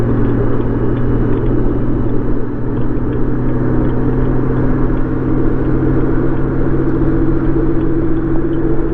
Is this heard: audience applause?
no